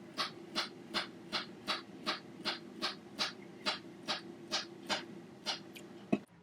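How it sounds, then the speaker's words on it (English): A knife slicing through a banana on a cutting board, producing a steady series of about fifteen soft, evenly spaced cuts, close and fairly quiet. "So I'm going to put that to a side while we cut the banana."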